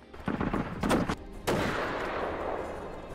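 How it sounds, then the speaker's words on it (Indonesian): Rifle gunfire in a war film set in a combat zone with special forces and mujahideen: several loud, sharp shots with a burst near one second, then a big boom at 1.5 seconds that rolls into a long echoing decay. "Disinilah sang sniper melepaskan timah panasnya untuk menghabisi mereka."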